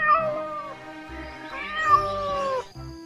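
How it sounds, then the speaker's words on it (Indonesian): A cat meows repeatedly, close and fairly loud, with drawn-out, wavering cries that rise and fall in pitch, no talking. "Ternyata ini meong teman-teman."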